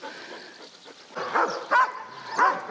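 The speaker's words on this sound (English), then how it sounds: "Sorry about the dog noise." Dogs in a Slovak village barking, a few sharp yaps and barks rising over a quiet background, moderately close, with no speech.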